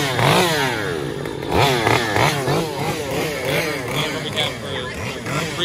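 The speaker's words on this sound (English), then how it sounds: "this one's filled with chainsaws" Chainsaws revving in a Howl-O-Scream haunted house walk-through at Busch Gardens Williamsburg, loud repeated rising and falling engine whines close by, with voices mixed in.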